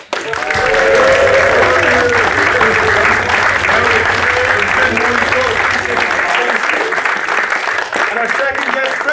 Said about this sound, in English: I want a big round of applause, some stamping feet, some cheers for our guests